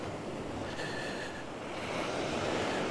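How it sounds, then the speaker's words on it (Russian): Ocean waves wash over a rocky shore near Paraty, Brazil, a soft continuous distant surf hiss that swells slightly toward the end. "И океан."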